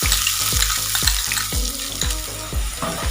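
Chopped onions sizzle and crackle in hot oil in a pan for an eggplant cutlet filling, a loud, close, continuous frying hiss broken by rhythmic scraping strokes of a stirring spatula.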